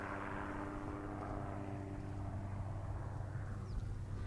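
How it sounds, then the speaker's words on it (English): Two helicopters work in tandem over a wild horse roundup on a windswept hill in the Divide Basin, heard as a faint, distant, steady rotor drone mixed with low wind rumble and no talking. "The private contractor is using 2 helicopters working in tandem."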